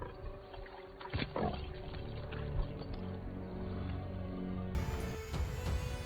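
A wild lion roars in a film scene, a deep, rumbling growl rising over a dense, tense soundtrack that swells and shifts throughout.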